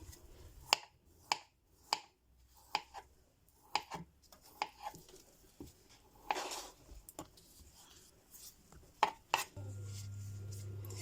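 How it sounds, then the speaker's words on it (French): A knife cuts potatoes into round slices on a board, giving a series of sharp, close chopping taps in an uneven rhythm, fairly quiet and with no voices. "Vous pouvez les couper aussi en rondelle."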